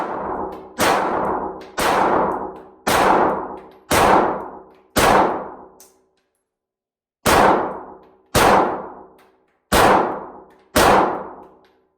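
Pistol shots from a Glock 48 or CZ P10s, fired at a range: nine sharp, loud reports in a steady rhythm, each with a brief ringing decay, five in a row, a pause of about a second and a half, then four more.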